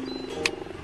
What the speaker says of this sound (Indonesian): ada juga satu ekor macan cheetah nih teman-teman